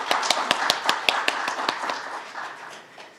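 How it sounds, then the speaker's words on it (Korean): Hands clap at a tenth-anniversary ceremony of a democracy research institute to welcome its chairman, starting with distinct sharp claps that blur into a softer, fading round of applause. "이영구 이사장님을 박수로 모셔주시기 바랍니다"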